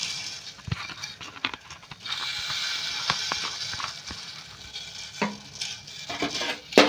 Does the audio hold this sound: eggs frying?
yes